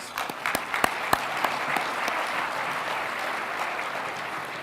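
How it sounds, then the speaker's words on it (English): An audience at a Phoenix State of the City address applauds for council members, a steady wash of clapping with a few sharp louder claps near the start, fairly close and sustained throughout. "Give them a round of applause, please."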